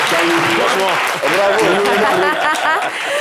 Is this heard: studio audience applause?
yes